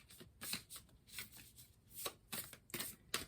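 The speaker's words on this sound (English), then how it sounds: "Actually, we're going to keep shuffling." Tarot cards being shuffled in a series of quick riffling bursts, close and fairly soft, with brief pauses between each shuffle.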